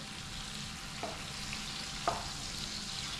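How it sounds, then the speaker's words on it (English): Fish fries in a pan for a red gravy fish stew, a constant mild sizzle running throughout, with two brief utensil clicks as the fish is turned over, no voices. "So I'm just trying to flip over my fish."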